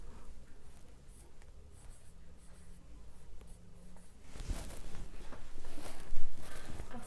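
Pen or marker writing a word on a surface, scratchy strokes starting faint and growing louder and busier toward the end, close and alone with no talk.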